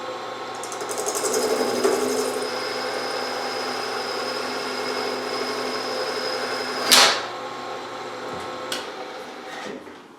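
Steady machining hum of a Yamaha XS650 head bearing cap being bored on a machine, a continuous tonal whir with a sharp metallic clack near the end and a couple of lighter knocks after.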